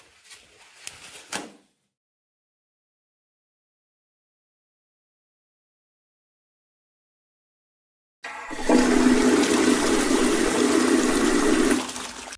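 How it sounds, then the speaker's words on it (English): Public restroom toilet flushing automatically: after brief handling noise and a long silence, a loud close rushing flush of water runs steadily for about four seconds. "since the toilet automatically flushed"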